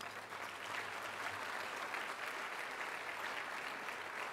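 An audience at the Radcliffe Institute's Radcliffe Day 2015 gathering claps steadily, a dense, even round of applause that holds throughout without speech.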